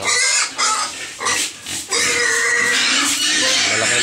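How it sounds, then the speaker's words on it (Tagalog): Pigs on a farm grunt and oink repeatedly, close and loud, with short squeals mixed in and brief pauses between the calls. "ang alagang baboy, hindi na piglets. Malalaki na yun."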